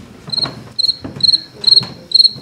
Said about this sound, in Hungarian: Hallják, hogy ciripel a tücsök?